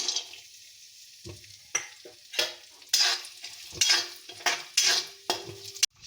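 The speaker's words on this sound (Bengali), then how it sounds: "দিয়ে দিচ্ছি কিশমিশ আর কাজু" Raisins and cashews fry in a tablespoon of hot ghee in a wok, a soft sizzle broken by a series of sharp, close scraping stirs that come in irregular bursts.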